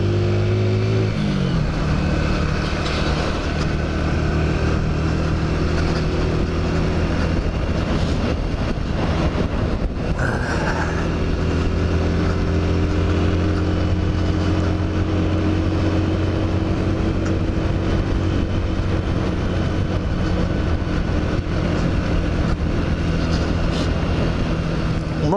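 A motorcycle engine runs steadily through a wet ride in the rain, a continuous low drone with road and wind noise, a brief shift in tone near the middle, no talking.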